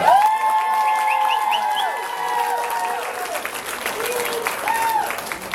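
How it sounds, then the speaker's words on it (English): An anime convention crowd at closing ceremonies applauds and cheers, a continuous loud wash of clapping with whoops and squeals rising over it, some voices calling out across the hall. "Give her a round of applause."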